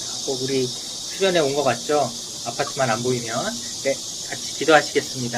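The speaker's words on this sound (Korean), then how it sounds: "와, 매미 소리 들리나요?" Cicadas buzz outdoors in a steady, high, continuous drone during a summer church retreat, heard under someone speaking.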